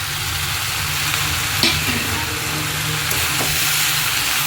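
Fish and vegetables frying in a pan while being stirred, a steady loud sizzle with a few soft scraping knocks from the utensil, no voices.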